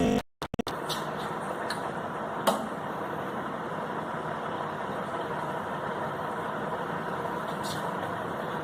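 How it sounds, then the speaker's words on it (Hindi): A journal bearing test machine running in a lab, a steady close mechanical hum and whir that holds even after a few clunks at startup, with one brief knock partway through. "हमारा मशीन आपके सामने अभी चलने लगा है"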